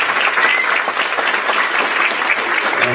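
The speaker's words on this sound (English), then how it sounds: "so Lucila, we give her an applause." Loud, dense audience applause at a middle school fine arts band concert, steady clapping filling the whole stretch without pause.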